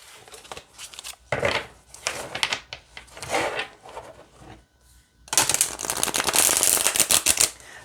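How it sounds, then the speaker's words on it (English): Thick-cardstock tarot cards are riffled and shuffled in several crisp bursts with short pauses between them, ending in a longer, louder riffle. "let's see how it shuffles"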